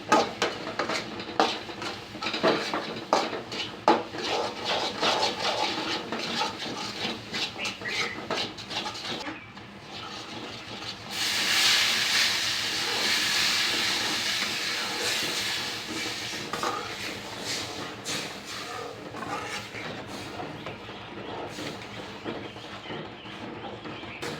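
A spoon stirs jaggery prasad in a pot over a low gas flame, giving steady scraping and clinking with soft bubbling patter, continuous and close for over twenty seconds.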